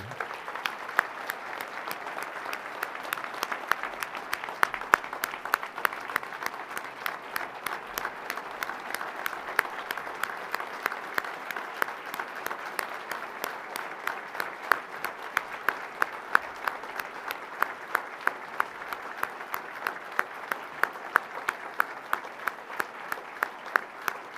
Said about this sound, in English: Again, please, another round of applause for Lau and B.